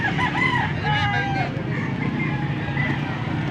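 Rooster crowing at a busy poultry market, a loud nearby cock-a-doodle-doo in the first second and a half, then fainter clucking and crowd murmur continuing beneath.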